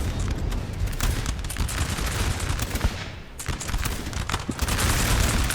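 Dense, continuous musket volleys and booming cannon fire from a Napoleon Total War battle, a loud, rolling crackle of shots layered over deep rumbles with no let-up.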